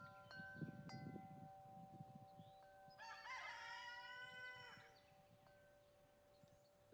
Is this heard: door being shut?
no